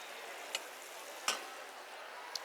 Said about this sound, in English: So we just want to saute the cabbage.